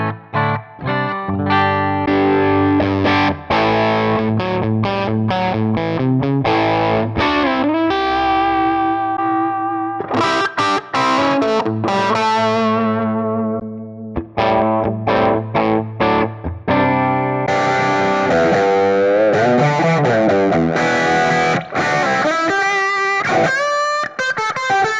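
Electric guitar played through a modelled Custom Hiwatt 100 amp in a signature collection, loud and distorted with effects, shifting between chord passages and sustained notes, steady volume throughout with no voices.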